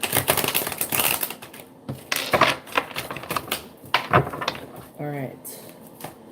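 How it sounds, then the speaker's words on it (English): Tarot cards are shuffled and riffled in quick papery bursts of flicking and tapping, close and fairly loud, with brief pauses between runs and a short spoken remark near the end. "one last shuffle"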